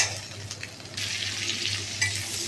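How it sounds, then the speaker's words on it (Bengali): Onion hits hot oil after fish has been fried and sizzles close by with a steady crackling hiss, stirred occasionally, the frying growing louder after a second and continuing without speech. "তেলের মধ্যে পেঁয়াজটা দিয়ে দিলাম"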